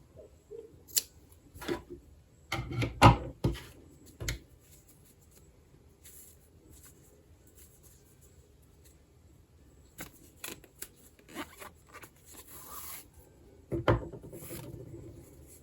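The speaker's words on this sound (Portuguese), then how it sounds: "Vou cortar aqui o fio, deixando um pedaço razoável pra costurar lá na bolsa." Scissors snip through polyester knit yarn during a crochet bag project, giving a few short, crisp cuts around three and fourteen seconds with small handling rustles between them, close up and with no talking.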